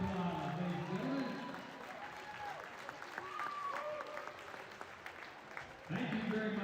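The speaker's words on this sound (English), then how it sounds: "Let's give all of our seniors and family members a big round of applause" An audience applauds at a varsity ice hockey game, steady clapping and crowd noise filling an arena, with an announcer's voice and faint tonal sounds running under it.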